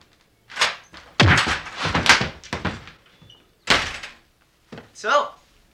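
A door is opened and slammed shut inside a house, with several sharp thuds and knocks in quick succession between bursts of excited voices.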